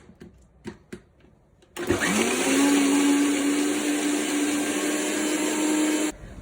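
A blender whirs loudly and steadily for about four seconds as it purees frozen mango for frozen yogurt, after a few light knocks, then cuts off abruptly.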